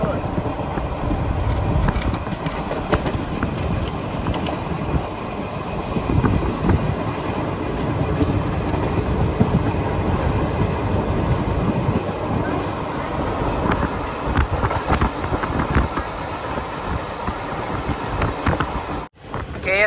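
Garib Rath Express rolling on the rails between Kochuveli and Lokmanya Tilak, a steady close rumble and rattle of the coaches that runs unbroken for the whole stretch, with one brief dip near the end.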